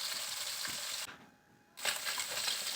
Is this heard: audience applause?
no